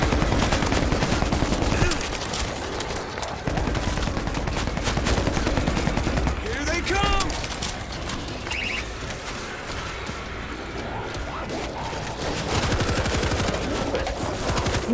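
Machine gun turret fire in World War Z, set in New York: dense, loud, continuous bursts of rapid gunfire with brief gaps, layered with chaotic combat clatter.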